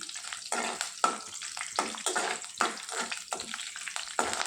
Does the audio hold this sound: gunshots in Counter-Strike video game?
no